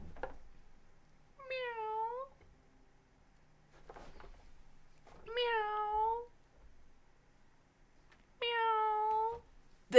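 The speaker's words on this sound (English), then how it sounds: "That's enough meowing for today." Three separate cat meows from a livestream super sticker alert, each a clear rising-falling call about a second long, spaced evenly with quiet gaps between them.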